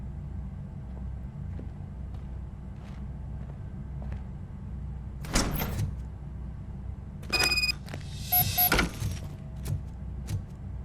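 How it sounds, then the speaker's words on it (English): A door opening in the video game RoboCop: Rogue City, with a short mechanical burst followed by a clattering, rattling slide and clunk over a steady low room hum, with no talk. "Now let me get that door open for you."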